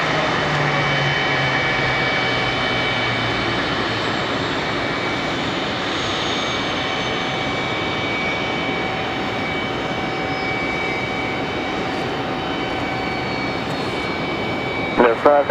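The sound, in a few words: American Airlines Airbus A319 jet coming in to land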